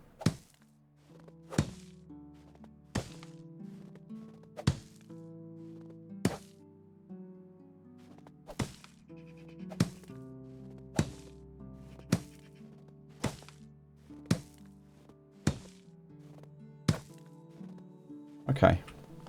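In the video game Medieval Dynasty, a gravel road is being destroyed with a series of sharp, regularly spaced thunks and chops, about a dozen strikes, while a person speaks quietly between them.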